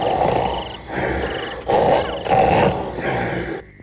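A cartoon bear from an animated Hindi Jungle Book series growls in a run of loud, close, throaty bursts, about five rough pulses in a row with brief gaps between them.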